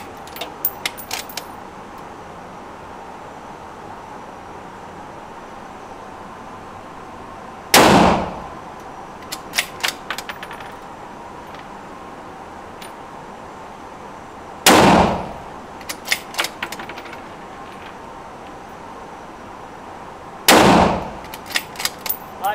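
Bolt-action rifle shots at a shooting range, three loud, sharp cracks spaced several seconds apart, each followed by metallic bolt clicks and clatter.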